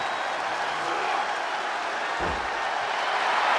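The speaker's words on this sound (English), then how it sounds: "He's getting a huge boost right now from all those chants and cheers" A wrestling arena crowd in WWE 2K24 keeps up a steady wash of cheering and chanting, a continuous mid-level roar with a brief low thump partway through.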